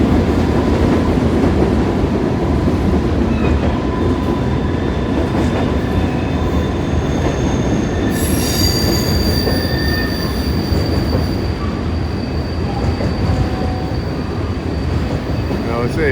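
A night train rumbles loudly past up close, wheels clattering continuously, with high metallic squeals rising partway through and lingering to the end.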